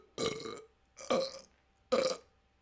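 Three loud, drawn-out burps in a row, each about half a second long, separated by short pauses, close to the listener.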